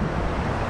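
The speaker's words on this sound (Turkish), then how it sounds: "arkamda buz gibi su, dere akıyor" An ice-cold mountain stream rushing at a highland spot, a dense, steady broadband roar of flowing water heard close and loud throughout.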